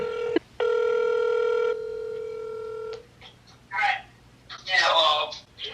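A telephone call being placed, with a steady dial tone and a short burst of keypad tones up front, then the line going quiet before faint voices and rustling follow.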